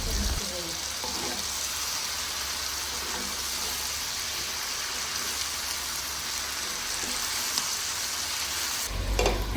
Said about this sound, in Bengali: শাকগুলো আমরা ভালোভাবে কষিয়ে রান্না করে নেব